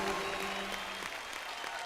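A studio audience on a Hindi comedy roast show claps, a broad wash of applause at moderate level for about two seconds, with faint voices mixed in near the start.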